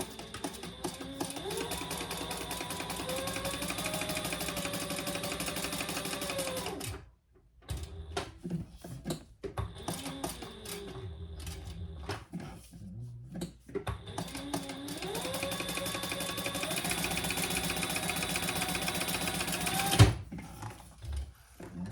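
A sewing machine runs in long continuous bursts while stitching down both sides of a fabric sling strap, its steady mechanical whir pausing briefly between passes, close and fairly loud.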